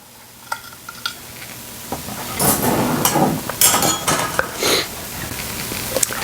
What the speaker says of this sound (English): take this spatula and slide my cake layer over onto my cake plate